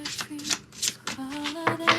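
Tarot cards being shuffled and flipped in quick, close handling bursts of papery riffling and slaps, with a voice talking softly over them throughout.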